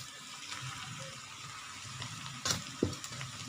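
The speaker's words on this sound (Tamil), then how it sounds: "நல்லா ஹை ஃப்ளேமில் வச்சு இதை நல்லா வதக்கி எடுத்துக்கோங்க" Vegetables and rice for corn fried rice sauté on high flame, giving a soft, faint sizzle with a few sharp stirring clanks toward the end.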